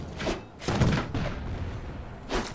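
Cannons fire in the dungeon-management video game Dungeons III during a fight. There are several heavy, booming thuds with noisy tails, spaced irregularly and loud in the mix.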